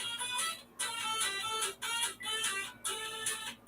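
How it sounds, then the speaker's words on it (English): A mobile phone ringtone for an incoming call, a repeating electronic melody in short rhythmic bursts with brief gaps, clear and moderately loud with no talking over it. "My phone ringing."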